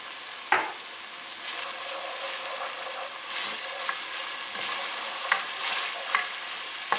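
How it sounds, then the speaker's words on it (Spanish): Ají panca paste sizzles in a hot pan for a Peruvian ajiaco de papa, a steady frying hiss broken by several sharp spoon scrapes and stirs, close and clear with no talk. "Aquí le vamos a echar el ají panca, vamos a echarle una cuchara"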